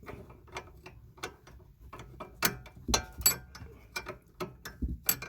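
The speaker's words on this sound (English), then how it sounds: "which holds it in position, while I turn the nut." A wrench turns a nut on a car sway bar while an Allen key holds it in place, making a string of close, irregular metallic ratcheting clicks that grow busier midway, with no voices.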